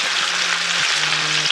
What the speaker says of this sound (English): Next to get going is frying up the fish.